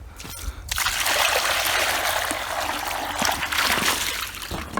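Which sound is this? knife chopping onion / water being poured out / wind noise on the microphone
water being poured out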